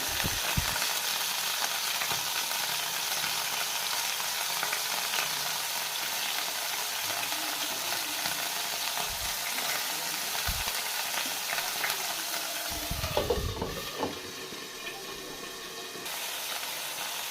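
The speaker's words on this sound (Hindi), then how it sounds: "ध्यान से करना, छींटे उड़ रही हैं बहुत ज़्यादा" Beef steak frying with onions in oil, a steady loud sizzle with crackling spatters throughout and a brief burst of stirring or turning near the end.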